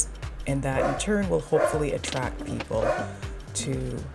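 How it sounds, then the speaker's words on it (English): A pet dog barks and yips repeatedly in a home dye studio, sharp yelps breaking through and overlapping a person's continuous speech. "let me just apologize about my dog. You will probably hear him chime in from time to time."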